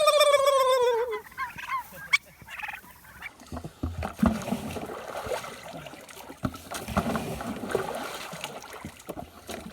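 A turkey gobbles on a farm with a quick rising-falling warble right at the start, then gives way to scuffling, knocking and shuffling noises that continue at moderate loudness.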